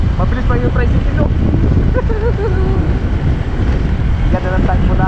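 Heavy wind buffeting a microphone while riding along at about 40 km/h near a tricycle, a steady loud roar filling the whole clip with faint voices underneath.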